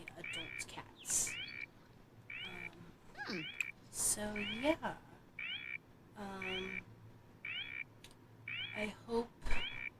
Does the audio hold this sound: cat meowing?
yes